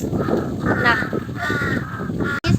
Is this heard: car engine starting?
no